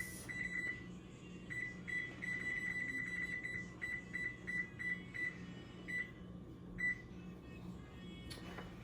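An oven control beeps while a 20-minute timer is set for baking cinnamon roll bites. Short, high, bright beeps come in quick irregular bursts over a low kitchen hum, with no talking.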